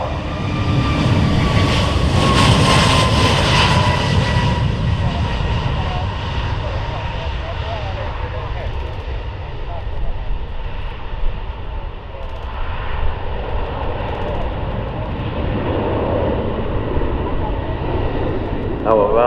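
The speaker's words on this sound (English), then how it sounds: "This is the A321 XLR flight here at Farnborough." An Airbus A321XLR airliner roars through a steep departure at the Farnborough Airshow flying display, loud jet-engine noise peaking early then fading as it climbs away, with a commentator talking over it.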